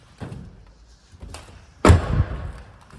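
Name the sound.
Mini Cooper tailgate being opened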